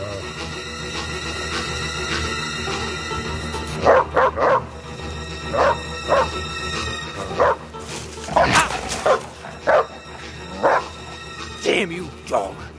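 A wolf-dog barks and whimpers in repeated short yelps and whines scattered over a steady background of dialogue, music and ambience, with several sharper barks clustered toward the end.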